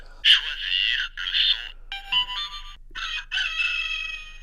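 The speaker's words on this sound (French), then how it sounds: "Ah, le fameux coq." An electronic rooster crow plays as an alarm tone on a talking touch watch for visually impaired users, several synthetic cock-a-doodle-doo calls in a row, bright and close, with no one talking.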